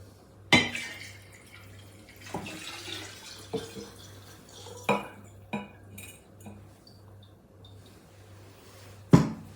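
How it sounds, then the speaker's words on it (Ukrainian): Water is poured into spirit for a bison-grass tincture: scattered clinks and taps of glass and metal with faint trickling water between them, a sharp knock near the start and another near the end. "Заливаємо спирту воду."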